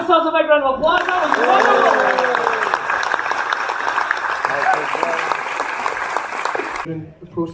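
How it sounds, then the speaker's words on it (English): An audience at a Glasgow comedy show bursts into loud, sustained clapping and cheering for about six seconds, with a voice heard just before and after the applause. "Give yourselves a big round of applause."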